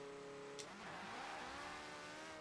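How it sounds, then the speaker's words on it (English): A Porsche 918 in Forza Horizon 4 accelerates hard from a standstill, its engine note sweeping up through a quick gear change into a sustained high-revving roar, faint and continuous. "the Porsche 918 can do 0-60 faster than every other car in the game, fully upgraded"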